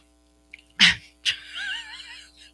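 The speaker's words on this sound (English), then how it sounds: "It was like the weirdest sneeze" A single sharp sneeze bursts out close to the microphone, followed moments later by a second smaller expulsion and a trailing whimpery, high vocal sound in a quiet room.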